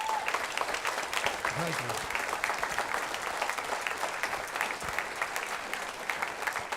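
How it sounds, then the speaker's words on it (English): Audience applause fills a junior high school spring concert hall after an eighth grade band performance, steady and sustained throughout, with a brief spoken thanks near the start. "Give her a round of applause."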